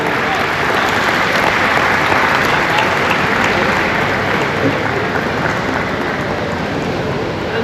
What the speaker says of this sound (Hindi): तो जोरदार तालियों से हमारे डॉक्टर आशीष कांदवे का आप स्वागत करें।